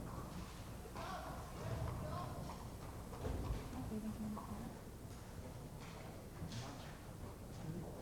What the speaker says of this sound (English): The horse is no longer rushing.